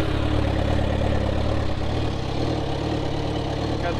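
A GSXR 600cc motorcycle engine, swapped into a golf cart from a wrecked bike, idles steadily, loud and close, with a dense, unbroken rumble and no noticeable revving.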